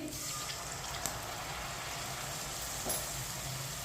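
Water is added to cooked masala in a pan over raised heat while making rajma, producing a steady, close hiss of sizzling and bubbling with faint stirring clinks.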